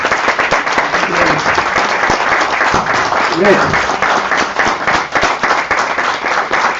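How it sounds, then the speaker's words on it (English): Sustained audience applause fills an event hall, loud and dense throughout, with a voice briefly speaking over the clapping. "So everyone, so big round of applause."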